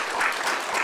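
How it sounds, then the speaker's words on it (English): Applause from a crowd at a volunteer recognition breakfast, steady and dense clapping filling the whole brief moment at moderate loudness. "So a round of applause for all of them"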